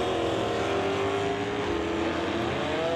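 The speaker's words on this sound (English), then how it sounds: "Wheels up launch for the Mustang." A Mustang drag car roars off the line at a stock eliminator drag race, a loud sustained engine howl with the pitch climbing steadily, heard alone without talk.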